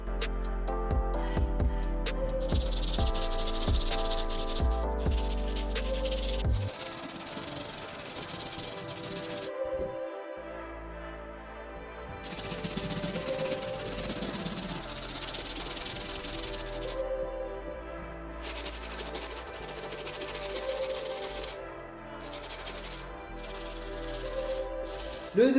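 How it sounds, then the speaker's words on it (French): A stiff brush scrubs the red areas and underside of the sole of a 2012 Air Jordan 4 Fire Red sneaker, producing close, rasping bursts of scrubbing separated by short silent pauses. "on va pouvoir s'attaquer aux zones rouges de la semelle ainsi qu'au-dessous de la midsole avec la brosse solide"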